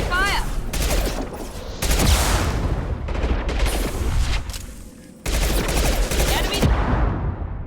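Rapid gunfire rattles through a firefight in the video game Mass Effect 2, dense bursts of automatic shots and blasts that go on nearly without a break, with brief lulls and loud renewed volleys, while voices call out over the fighting.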